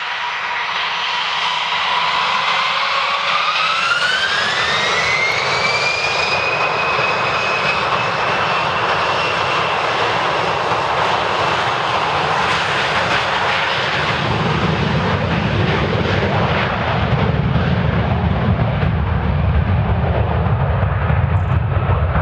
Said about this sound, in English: Get the jet ready.